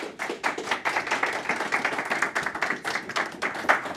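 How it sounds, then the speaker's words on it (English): A small meetup audience at a JavaScript evening event claps for a speaker, a dense run of hand claps lasting about four seconds at a steady level before fading slightly at the end. "So everybody, round of applause for Daniel."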